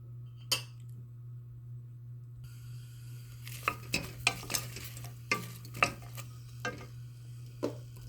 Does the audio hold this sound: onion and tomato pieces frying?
yes